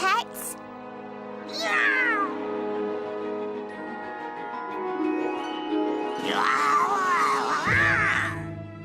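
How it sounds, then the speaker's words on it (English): In an animated woodland story, a cartoon wildcat gives two drawn-out yowling meows, one early and a longer one near the end, over a quiet background with a low hum. "There's a wildcat in here!"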